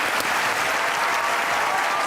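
A studio audience bursts into sustained, loud applause to welcome the poet Salman Gilani onto a Pakistani comedy talk show, with dense steady clapping throughout.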